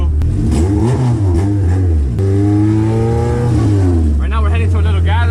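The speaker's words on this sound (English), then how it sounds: "Don't mind the jumpy idle. It's a big throttle body, big cams." A 310hp all-motor Honda Integra engine with a big throttle body and big cams, running loud and close with a rough, hunting idle that rises and falls. Someone talks over it.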